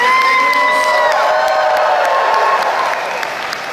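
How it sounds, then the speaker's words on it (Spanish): A church congregation breaks into loud, sustained applause mixed with cheering and whoops for the Virgin Mary, a dense crowd roar that holds steady and tapers slightly near the end. "Un aplauso grande para María."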